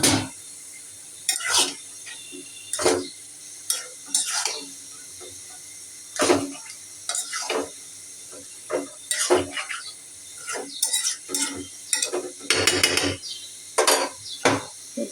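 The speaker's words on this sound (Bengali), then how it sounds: "তখন আমি সবটি দিয়ে দিব ঢেলে।" Clatter and scraping of a spoon and pot as ingredients are tipped into cooked-down spice paste for a potato and meat curry, irregular close knocks and rattles over a quiet background.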